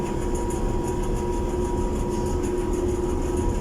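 A large exhaust fan blower runs steadily in a basement parking garage, a loud continuous mechanical roar with a rattling, shaking hum and a sustained tonal drone, close and unbroken throughout.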